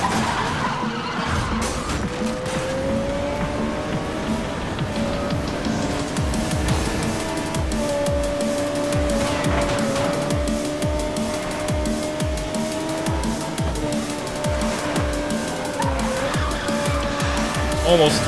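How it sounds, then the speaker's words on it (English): An Ariel Atom 500 V8 drifts in Need for Speed: Most Wanted (2012), its engine roaring steadily while the tires squeal and skid in long, continuous slides, loud and close throughout. "Let me just drift in peace"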